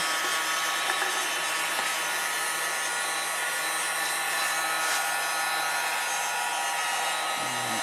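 A heat gun blowing steadily while shrinking heat shrink tubing onto a bicycle brake cable, a loud constant airy roar with a faint hum underneath and a light knock near the end.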